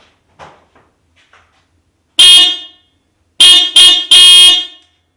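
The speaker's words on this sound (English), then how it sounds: "Here comes the horn test for the factory horn." Factory horn on a 5th generation Toyota 4Runner, sounding loud and close in three honks: one short blast, then a quick double tap followed by a longer blast.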